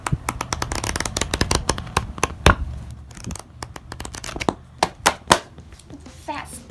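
Pages of a thick mixed-media sketchbook are being flipped and handled, making a rapid run of sharp, crisp paper snaps and riffles up close, growing sparser toward the end.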